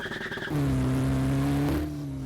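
A car in the Roblox THAIRODZING map pulls away with a steady engine drone that rises slightly in pitch, preceded by a short burst of higher whine, loud and close with no talk.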